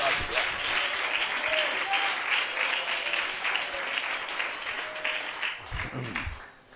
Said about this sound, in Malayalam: ഒന്ന് എൻജോയ് ചെയ്തൊന്ന് കൈയടിച്ച് യേശുവിന്